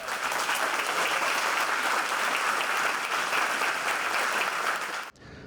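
Sustained applause from a studio audience during a television news broadcast, dense and steady at close range, cutting off abruptly near the end.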